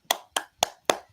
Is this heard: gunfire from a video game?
no